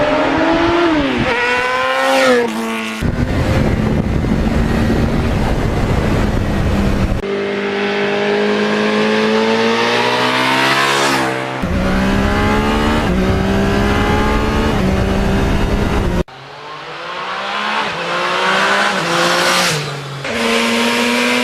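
A 1991 Yamaha FZR 1000 EXUP motorcycle exhaust revs loudly and repeatedly, its pitch climbing and falling through several sustained bursts with brief pauses between, close up and with no talking.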